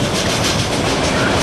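A Norfolk Southern southbound freight train rolls past at Cooke Road in Columbus, Ohio, its loud, steady rumble and rattle of railcars filling the scene with continuous clickety-clack close by.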